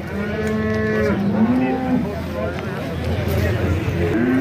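Cows moo loudly in long, drawn-out calls at a busy livestock market, with people talking and crowd babble around them.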